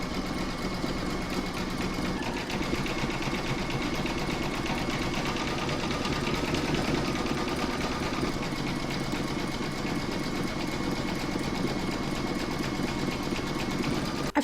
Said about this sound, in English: we're going to stitch round number 11, and that's going to do the satin stitch around the edges of the letter